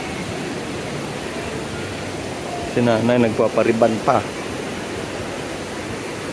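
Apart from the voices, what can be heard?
heavy rain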